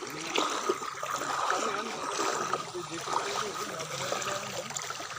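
Broad river water flows and gurgles steadily beside a boat, a continuous wash with faint trickles, while people talk quietly over it.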